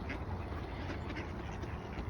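A flock of ducks quacks outdoors in a continuous, overlapping chorus of nasal calls at close to middle distance, over a steady background hiss.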